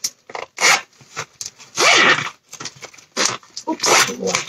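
A handbag zipper rasps open in a few quick pulls close by, with rustling of bag fabric between the strokes.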